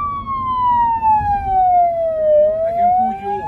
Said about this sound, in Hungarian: úgyhogy bekapcsolom a szirénát